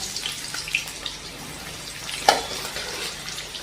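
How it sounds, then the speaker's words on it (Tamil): Meal maker soya chunks dropped into hot oil give a continuous close hissing sizzle, broken by a few sharp pops and crackles, with no talk over it. "எண்ணெய் நல்லா சூடாயிடுச்சுங்க. இப்போ இதில் நம்ம இந்த மீல் மேக்கரை போட்டுக்கலாங்க."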